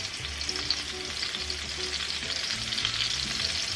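Pork chops seasoned with salt, pepper and garlic sizzle steadily in a hot pan, a dense continuous frying hiss with low bubbling and no voices.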